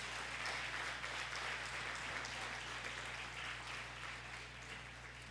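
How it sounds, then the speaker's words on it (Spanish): A church congregation applauds steadily in a large room, a dense, even wash of clapping that holds at constant strength throughout, with a low electrical hum underneath. "dale un aplauso al Espíritu Santo de Dios"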